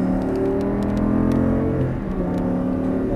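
An Audi R8 accelerates under throttle on a coned track course, a steady loud engine roar and whir holding close throughout with no talk.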